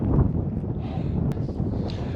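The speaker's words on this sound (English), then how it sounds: "the wind is picking up" Wind gusting across a snowy mountain hiking trail during a snowstorm, a steady low roar buffeting the microphone with a few sharper rushes.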